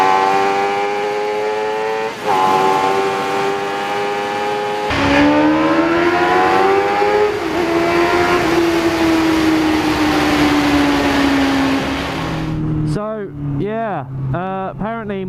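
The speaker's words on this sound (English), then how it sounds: "Test out my new throttle, shall we?" A moped engine opened to full throttle, its loud rising whine climbing steadily in pitch as it accelerates along an open road, with strong wind rush throughout and a brief burst of higher revs near the end.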